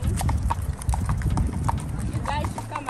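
Horse hooves clip-clop in a steady rhythm during a trail ride in Livingstone, Zambia, loud and close with people talking over them.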